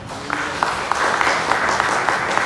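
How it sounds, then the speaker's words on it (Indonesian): Church congregation applauding during a Sunday sermon, a sustained crowd clapping throughout with some sharper claps standing out at regular intervals, moderately loud and steady. "Tepuk tangan buat Tuhan."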